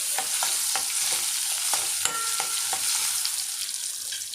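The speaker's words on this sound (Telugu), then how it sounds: "ఈ మామిడికాయ ముక్కలు అనేది ఇట్లా నూనెలో బాగా ఫ్రై అయిపోవాలండి" Raw mango pieces frying in oil for a dal and mango curry, a steady close sizzle punctuated by regular knocks and scrapes of a spoon stirring in the pan.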